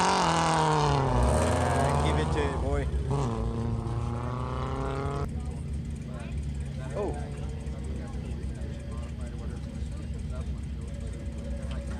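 A Toyota MR2 races through an autocross course, its engine roaring loudly and shifting pitch as it accelerates and brakes around the cones, with voices of nearby spectators talking.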